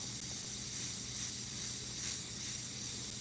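An Iwata CM-SB airbrush sprays Createx illustration paint onto Claybord, giving a continuous, close, airy hiss that holds steady throughout with no talking.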